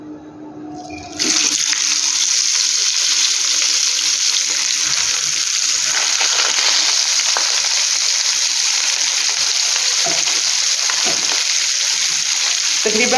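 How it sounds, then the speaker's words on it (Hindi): Chicken pieces fry in hot oil, a loud, dense sizzle that bursts in after a quiet second and keeps up steadily for the rest of the clip. "जैसे ही ऑयल हमारा गर्म होता है हम इसमें एक एक करके अपने पीसेस शामिल करेंगे।"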